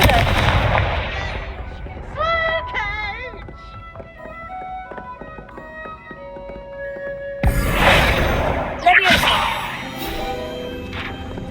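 A Confringo blasting spell erupts in a sudden loud burst in Hogwarts Legacy, following quieter magical chimes and tones, with another crackling blast shortly after and lingering game ambience between.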